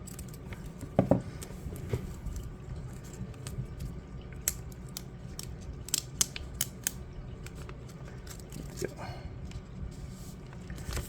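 A plastic graded baseball card slab is being cut open: a run of sharp snips and crunchy clicks at close range, scattered unevenly over a quiet background.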